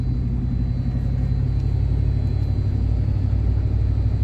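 A car drives along a rural road in Tennessee, giving a steady, loud, low engine and road rumble heard from inside the vehicle throughout.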